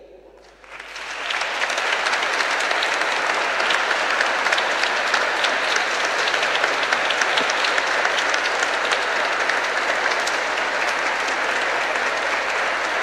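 Audience in a cathedral applauds young choir singers after a vocal-symphonic concert, the clapping swelling quickly into a dense, loud, sustained roar that continues evenly throughout.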